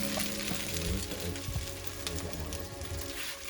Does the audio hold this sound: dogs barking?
no